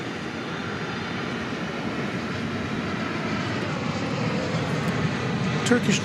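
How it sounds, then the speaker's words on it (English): Turkish Airlines Dreamliner arriving from Istanbul at DFW Airport, a steady broadband engine roar at moderate distance, constant throughout with no clear rise or fade. "Turkish Dreamliner."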